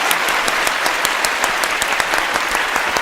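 Turkish game show studio audience gives loud, steady applause, dense clapping with individual sharp claps popping out throughout, close and without talk.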